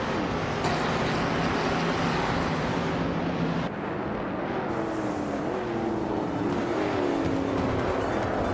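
Race car engine of a 1970 Chevrolet Camaro Z28 roaring steadily during a race, a sustained loud drone with a gear change partway and rising engine pitch afterward, no talk.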